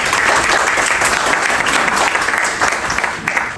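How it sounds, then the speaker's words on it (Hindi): Loud, dense applause from a crowd at a Pakistan Society Eid Milan party in Denmark, a continuous roar of many hands clapping that eases slightly toward the end. "मैं कहता हूँ एक दफ़ा आप उनके लिए ज़ोरदार तालियां"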